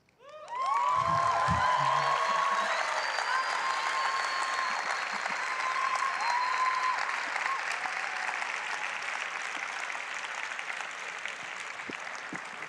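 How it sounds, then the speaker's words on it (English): Audience applause for winners at a university commitments challenge event, a loud sustained burst of many hands clapping that swells in quickly and holds steady, thinning slightly toward the end, with faint whistles over it. "So thank you for already giving each one of them a strong round of applause."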